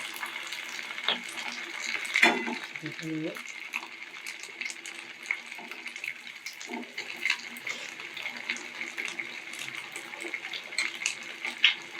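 Sabudana vadas frying in hot oil and being turned over, a continuous hissing sizzle with a few soft clinks and stirring knocks, while someone talks intermittently.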